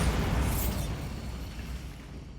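Bombarda spell explosion in Hogwarts Legacy, a single loud booming blast with a rushing, crackling burst that decays steadily over a couple of seconds, with no talk.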